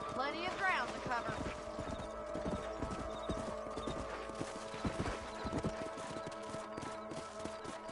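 Horse hooves clip-clopping in a steady rhythm while riding in the video game Red Dead Redemption, close and moderately loud, with a brief whinny early on and game character dialogue over it.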